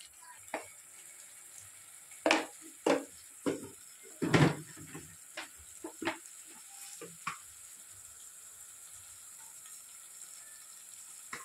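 Salt, turmeric and curry leaves go into a hot pan for a fish curry, bringing scattered crackles, a few louder sizzling bursts, and light clinks of a utensil against the pan over quiet background noise.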